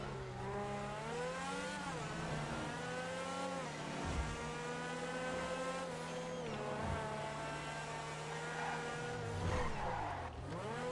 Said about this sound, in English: It's got that old school V12 going to it too